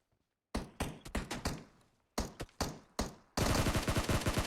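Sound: gunfire in PUBG Mobile video game

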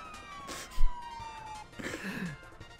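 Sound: police car siren in video game MTA

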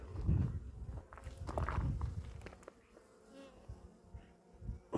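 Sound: Buckfast honey bees buzzing

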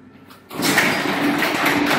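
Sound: garage door closing, moving down

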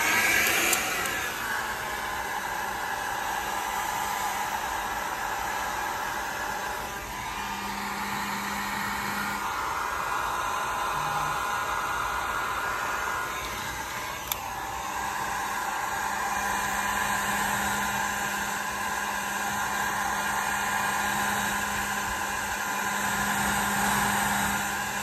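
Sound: hair dryer running

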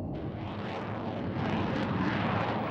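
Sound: Harrier jet aircraft taking off

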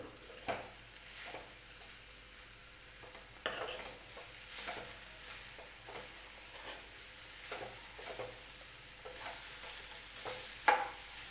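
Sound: stirring grated coconut and jaggery in a pan

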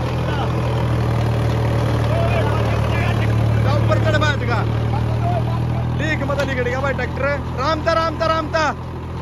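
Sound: tractor engine running with rotavator

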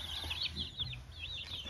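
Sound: chickens clucking on a poultry farm

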